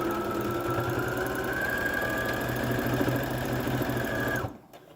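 Home sewing machine running steadily as it stitches through the thick center seam of a three-layer fabric face mask, a rapid even mechanical whir that stops abruptly near the end.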